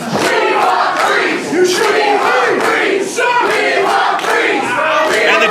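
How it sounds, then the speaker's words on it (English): A packed independent wrestling crowd chants loudly and rhythmically for Don Freeze, a dense roaring wall of voices rising and falling in repeated bursts, close and overwhelming. "The last thing that Alvarez wants to hear is that the crowd wants Don Freeze."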